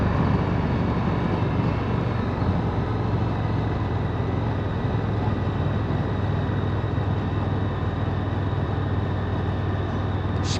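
Indian FTR1200 motorcycle ridden in sport mode in second gear, a steady loud engine drone with heavy wind roar running without a break, close and constant throughout.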